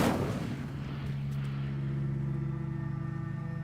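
A fire spell cast in the Hogwarts Legacy video game, heard as a sharp burst followed by a sustained, loud, roaring whoosh with a steady droning tone that fills the rest of the moment.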